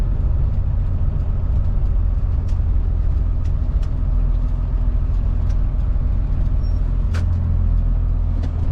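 A 1st gen Cummins diesel truck drives along, its loud, steady engine drone filling the cab, with a shift out of overdrive and a change in engine note near the end; nobody speaks.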